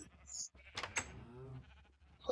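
Minecraft sheep with colour-changing wool bleating, a few short nasal bleats, quiet and close, with brief gaps of silence between them.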